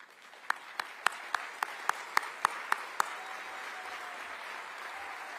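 Audience applause at a political event for members being recognized, heard as about ten sharp, evenly spaced claps followed by a soft, diffuse crowd wash in a large room.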